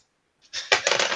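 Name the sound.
dice being rolled for a tabletop game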